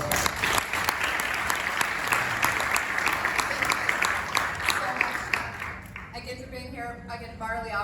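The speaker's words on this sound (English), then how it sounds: "Can we give them a round of applause?" Audience applause for the panelists at an economic equity forum, sustained dense clapping for about six seconds, then fading out while a voice begins talking in the background.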